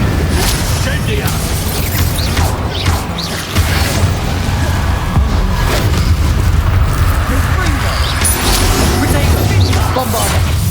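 An Incendio fire spell cast in Hogwarts Legacy bursts in a loud, dense flurry of whooshing, crackling blasts and deep booms amid steady combat noise, with a brief dip before it surges again.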